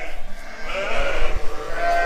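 Sheep and rams bleat inside a sheepfold, a few overlapping calls close by over a steady pen murmur.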